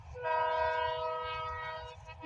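A train sounding a long, steady horn as it passes during an outdoor walk, a loud tonal blast over a low rumble of the rail cars, fading slightly toward the end.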